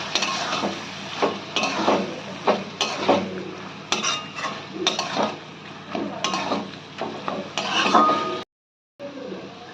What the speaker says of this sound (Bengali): সব কিছু দিয়ে ভালো করে কষিয়ে নিতে হবে।